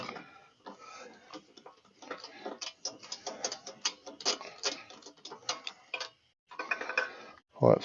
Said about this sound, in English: Pull that spark plug out,